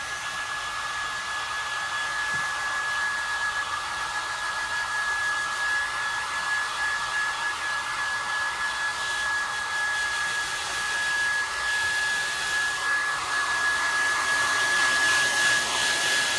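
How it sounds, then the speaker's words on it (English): A hair dryer blows steadily on freshly applied patina paint, a constant close airy whoosh with a thin high whine running unchanged for the whole stretch, no voices over it. "now we're going to want to start to dry it a little bit."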